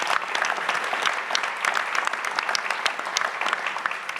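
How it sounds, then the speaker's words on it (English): Conference audience applauding the events team, a dense burst of many hands clapping with crisp individual claps standing out, steady throughout. "Let's give them a big round of applause."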